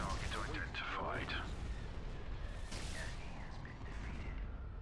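Ion cannon firing in a Star Wars real-time strategy game, Empire at War Expanded, during the conquest of Mon Calamari: heavy booming shots over dense battle noise, with voiced unit lines throughout.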